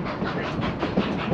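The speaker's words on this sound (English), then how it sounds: "the train goes, we're going uphill, so we're going real slow" Cumbres and Toltec Scenic Railway train rolling slowly uphill at about 9 miles per hour near Chama, New Mexico, a close, steady rumble of rolling stock with soft rhythmic clatter and no talking.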